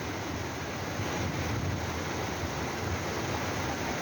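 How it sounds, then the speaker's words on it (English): A fast-flowing Himalayan river roars as a dense, constant broadband rush, loud and close with no pauses and no voices. "There's a fast flowing river."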